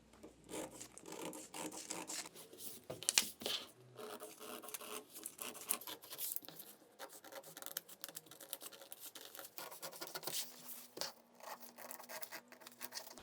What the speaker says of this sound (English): Now cut the pattern as per the seam allowance marking